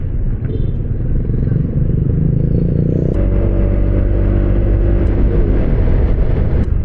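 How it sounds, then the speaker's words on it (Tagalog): Steady engine drone and road noise while riding a Honda ADV 160 scooter in traffic near Lemery, Batangas, continuous and fairly loud, with the low rumble thickening halfway through and no talk. "Nako, ang traffic."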